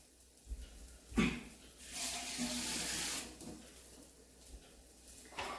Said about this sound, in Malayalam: ഒരു തുള്ളി വെള്ളം ഒഴിച്ച് കൊടുക്കാം.